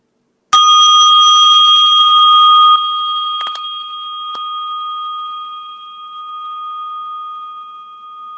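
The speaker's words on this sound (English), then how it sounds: "I have this little Tibetan bell" A single bright strike of a small Tibetan bell rings out, a clear metallic tone that sustains and slowly fades, with a couple of faint taps partway through.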